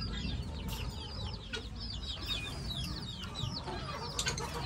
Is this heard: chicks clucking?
yes